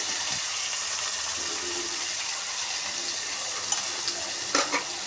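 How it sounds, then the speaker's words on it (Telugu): Tomatoes fry in a pan for a tomato curry, a steady close sizzle with a few brief stirring clinks near the end and no talking. "టమాటాలు కూడా మరింతసేపు ఫ్రై చేయకూడదండి"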